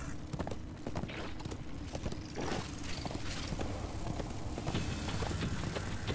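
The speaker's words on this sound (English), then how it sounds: "We're basically just dropping these enemies by just running them over with the horse." Hoofbeats of a horse galloping steadily through the whole stretch in Darksiders II, a dense continuous clatter with thuds as enemies are run down, no speech.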